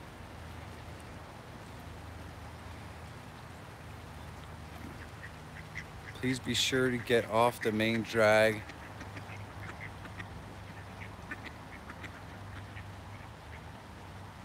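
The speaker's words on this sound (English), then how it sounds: "I've got my duck buddies here all hanging out on the bank" Ducks gathered on a riverbank burst into a run of loud, close quacks lasting about two seconds, framed by quiet outdoor ambience and a person speaking briefly.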